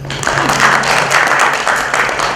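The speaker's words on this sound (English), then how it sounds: "So I really need you to clap for yourselves." An audience at a book event applauds in a steady, dense wash of clapping that holds at an even level from start to finish.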